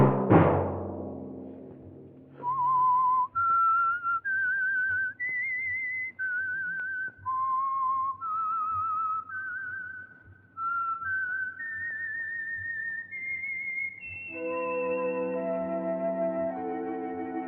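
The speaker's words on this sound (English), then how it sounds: "Let that whistle be your signal for the Signal Oil program, The Whistler" Whistled theme tune of The Whistler radio mystery program, sponsored by Signal Oil: a lone, clear melodic whistle with distinct sustained notes rising and falling, following a brief musical opening and leading into an orchestral swell.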